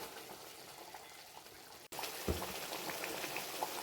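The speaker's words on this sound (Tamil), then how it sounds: "எப்படி பார்த்தீங்களா, தளதளன்னு கொதிக்குது." Pepper vathal kuzhambu, a South Indian tamarind curry, simmering in a pot, with soft continuous bubbling and occasional pops, faint and close, with a brief break midway.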